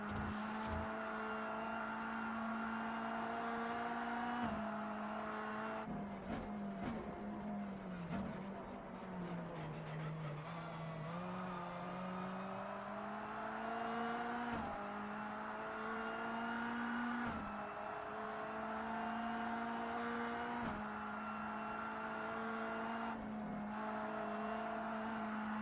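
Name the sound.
opponent cars' engines behind, from video game Race Pro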